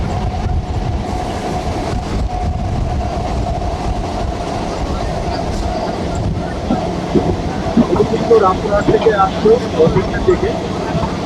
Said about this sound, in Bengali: আরও একটি মেমো স্পেশাল ঘুরছে দেখুন